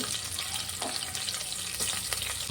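Curry leaves and onions frying in a pan of hot oil, a steady loud sizzle with brief stirring scrapes throughout, no talk.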